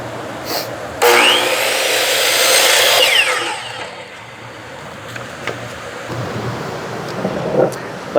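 Power saw briefly whining through the end of a wooden bookshelf board to trim a sliver off, loud for about two seconds, then fading into quieter workshop rustling.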